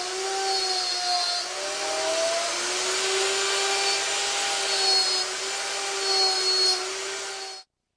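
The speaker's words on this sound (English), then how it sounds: "I'm using my homemade slot mortising machine to cut the mortises." A homemade slot mortising machine cuts mortises for a mortise and tenon joint, giving a steady, loud motor whine with a grinding cutting texture that holds for several seconds and then stops abruptly.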